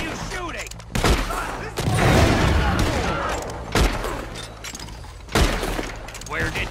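Gunfire in the western video game Red Dead Redemption 2: loud, repeated volleys of shots with crashing, shattering bursts and echoing booms, close and intense, with voices shouting over the battle.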